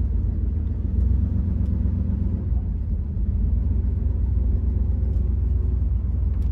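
A 1966 Chrysler New Yorker with its 440 cubic-inch, 7.2-litre big-block V8 gives off a steady, deep rumble that holds at an even level throughout, with no voices over it.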